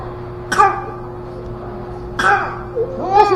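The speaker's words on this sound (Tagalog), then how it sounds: "paubo-ubo." A sick baby coughs close by, three short harsh bursts spaced out with quiet gaps between them against a faint steady hum.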